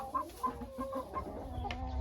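Hens and a crested rooster cluck in a poultry enclosure, a steady run of short close clucks with overlapping birds and no speech.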